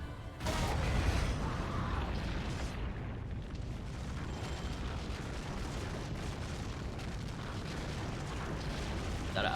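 Explosions from Durga bombs in a Bayonetta boss fight against Prudence, a sudden loud blast followed by a long sustained rumble of overlapping booms at even strength.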